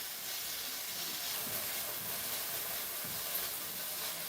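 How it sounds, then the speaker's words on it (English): Pork frying in a pan for a quick pancake roll filling, a steady close hiss and sizzle with faint crackles, alone without talk. "I'm just going to keep on cooking that and frying that just until I'm happy that the pork is pretty much cooked all the way through."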